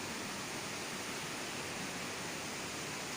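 Waterfall in Sri Lanka with a cave at its top, heard as a steady, even rush of falling water, soft and constant without any talk.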